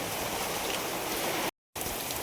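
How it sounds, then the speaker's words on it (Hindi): Heavy rain pouring steadily in dense forest near Chitrakoot, a loud continuous hiss of drops on foliage and surfaces, broken by a brief gap of silence before resuming. "बारिश जो है बहुत भयंकर तरीके से हो रही है"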